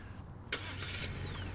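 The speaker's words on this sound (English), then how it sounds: "I'll start the vehicle like this" A 2025 Genesis G80 Sport Plus engine starts: one brief crank-and-catch burst about half a second in, then a steady low idle hum continues for the rest of the moment.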